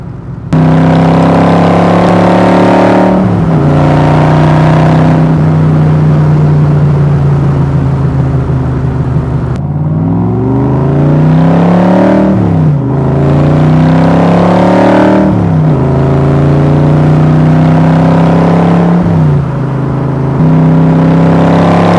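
A 1965 Backdraft 427 Cobra with side pipes drives by close and loud, its V8 droning steadily and then rising and falling through repeated revs and gear changes, with no talking.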